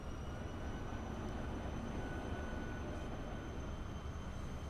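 Trains run in the video game Transport Fever, giving a steady, unbroken rumbling drone with faint high tones above it and no talk.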